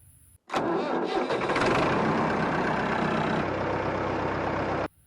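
Classic tractor engine cranking and catching, then running loudly and steadily up close for several seconds before cutting off abruptly.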